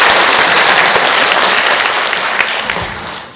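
Applause from the audience at a National Assembly policy seminar for home-based long-term care agencies, a dense, even clapping that fills the room and slowly tapers off toward the end.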